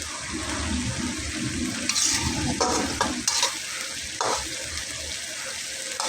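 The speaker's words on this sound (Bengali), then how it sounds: "ভালোভাবে নেড়েচেড়ে মিলিয়ে এটাতে আমি ঝোলের পানিটা অ্যাড করব" Pangas fish and potato curry stirred in a pan, a continuous close scraping and sizzling with a few louder clatters of the spoon against the pan, and no talking.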